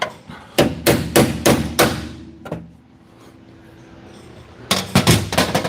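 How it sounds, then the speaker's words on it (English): Sharp metallic chisel strikes on a car while installing frame rails: a fast run of loud hammer blows, a pause with faint background hum, then another burst of rapid strikes. "When I'm chiseling, is it too loud?"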